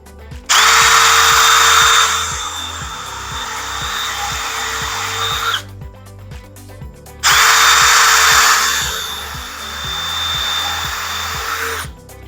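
A power drill bores holes while building a large garden tower for growing food. It runs in two long, loud bursts with a short pause between them, over a quieter musical backing.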